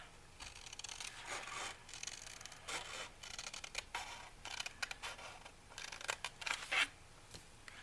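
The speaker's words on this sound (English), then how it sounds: "So let's do it with the scissors instead." Repeated crisp snipping and rustling as scissors cut through paper, short irregular bursts close by, with quiet pauses between cuts.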